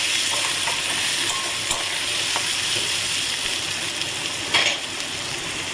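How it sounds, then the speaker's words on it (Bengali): Onion and green chilli fry in a pan with a steady dense sizzle while being stirred, with a few soft scrapes and one brief louder clatter near the end; no talking. "প্রথমে একটু ভেজে নেবো, একটু ঢাকা দিয়ে নিচ্ছি, তাহলে তাড়াতাড়ি হবে। একটু হলুদ দিলাম, নুন দিলাম, দিয়ে একটু নেড়ে নিচ্ছি।"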